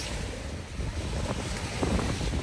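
Wind gusting over ocean waves with heavy microphone buffeting, a close, rough, continuous roar with surf washing underneath and no voices.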